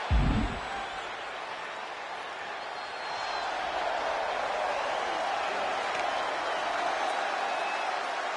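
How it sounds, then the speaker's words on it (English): A crowd at a live wrestling event roars and murmurs steadily in a large venue, with a brief thump at the start and a sustained, moderately loud wash of noise after. "And the crowd wants to see this."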